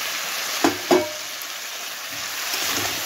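Pre-fried potatoes and cauliflower sizzle in spiced oil in a pan for a vegetarian cauliflower curry, a steady close frying hiss broken early by two soft knocks of the vegetables landing.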